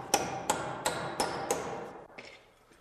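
Five evenly spaced hammer blows tacking a wooden stair carriage in place, sharp and close with ringing decay, followed by a couple of lighter taps as it tails off.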